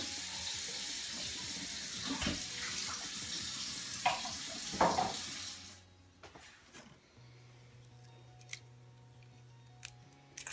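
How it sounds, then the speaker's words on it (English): Cold tap water runs loudly over freshly steamed eggs in a sink for about six seconds with a few knocks and clatters, then stops, leaving a quiet hum and faint scattered clicks. "Run them under some cold water so I can peel them"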